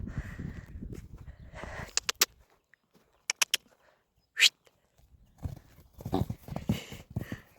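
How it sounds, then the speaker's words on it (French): A small pony outdoors on a stormy winter day, with scattered hoof clops and stamping, a brief sharp whinny, and some faint rustling and background noise between quieter pauses. "Oui, le petit poney."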